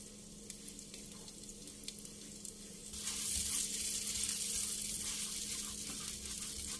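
Chopped garlic, shallots and rosemary are stir-fried in a pan for a truffle cream spaghetti sauce. A soft, faint sizzle opens with light stirring ticks, then jumps to a louder, fuller frying hiss that stays steady, with no voices.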